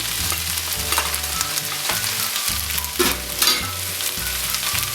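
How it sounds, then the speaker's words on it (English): Steady loud sizzling and stirring as fried chicken nuggets and fried egg are mixed into chicken noodles frying in a pan, continuous crackle with scraping and clatter throughout, no voices. "Then we can add the fried nugget, followed by fried egg."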